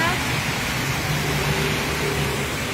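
Steady rain falls on a street in Ekkamai, Bangkok, a dense continuous hiss close by, with a low hum underneath and faint traffic in the mix.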